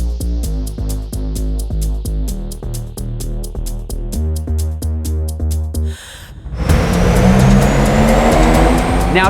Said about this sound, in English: So let's take the car over to our in-house dyno and get a good baseline.